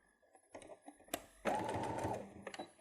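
A sewing machine runs a steady stitching burst along a travel pouch seam, preceded by a few short starts and clicks, with 3/4 inch seam allowance; close and fairly loud, no talk.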